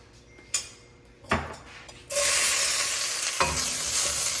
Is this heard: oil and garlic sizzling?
yes